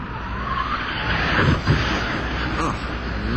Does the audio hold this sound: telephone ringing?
no